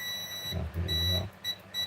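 Cockpit simulator panel giving repeated high electronic beeps in short bursts, with low rumbling thuds and handling noise underneath.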